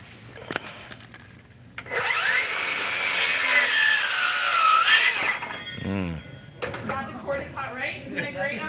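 A Milwaukee M18 cordless saw bites into an LVL beam with a loud, sustained cutting whine lasting about three seconds, followed by clatter and people talking nearby.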